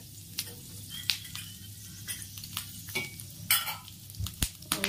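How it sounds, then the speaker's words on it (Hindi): Dried chili and fenugreek seeds tempering in hot oil in a pan for a tomato-onion chutney, giving a soft, steady sizzle dotted with sharp crackles and pops and occasional stirring clicks, with no talking. "मैंने गैस ऑन कर दिया है और इसमें मैंने मिर्च और मेथी का और थोड़ा सा और डालूंगी फोरन"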